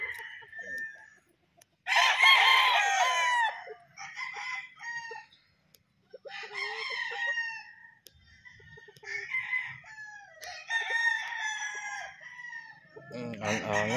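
A young rooster (stag) crows repeatedly at close range, loud strained cock-a-doodle-doo calls mixed with clucks and other fowl sounds, with some background speech in between.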